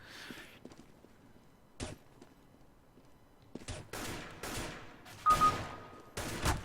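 Gunfire in the first-person shooter Overwatch: a few sharp single shots early on, then several loud, close bursts of rapid fire with short quiet gaps between them.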